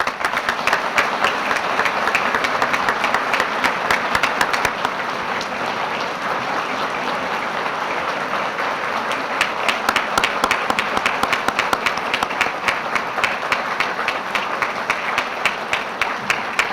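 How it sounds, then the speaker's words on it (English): An audience applauds at a military change of command ceremony, sustained, dense clapping from a large crowd that continues steadily throughout, briefly thinning in the middle before swelling again. "another round of applause for the commander, 81st Training Wing, Colonel Debra Lovette"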